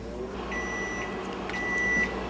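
A microwave oven running while heating eyebrow wax, a steady low hum with a few short beeps over about two seconds.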